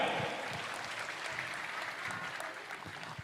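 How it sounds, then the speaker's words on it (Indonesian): Scattered applause from an audience, fairly faint and thinning out over a few seconds. "Beri tepuk tangan yang meriah."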